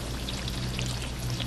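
Fry bread dough sizzling in hot oil in a firehouse kitchen, a steady dense crackle and hiss heard close and continuous with no talk.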